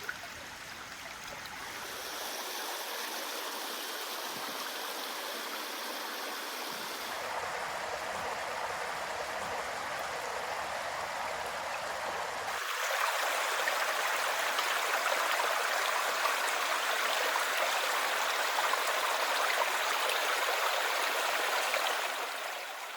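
A stream flows through shaded old-growth forest, a steady broadband rush of running water that shifts in character twice and grows slightly louder and brighter toward the end, with no voices.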